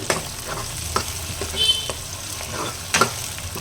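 Onions and tomatoes sauté for a pepper cumin kuzhambu, a soft steady sizzle broken by scraping stirs and occasional clinks of a spoon against the pan, close and moderate in level with no talking.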